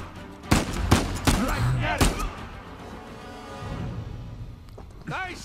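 Several sharp gunshots crack in quick succession during a firefight in the video game Uncharted 4, with thuds and a brief voice in the background as the shooting tapers off.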